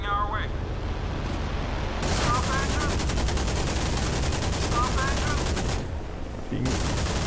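Rapid warship gunfire fills the whole stretch in Modern Warships, a dense rattling barrage of shots with brief pauses and tonal weapon beeps, loud and continuous.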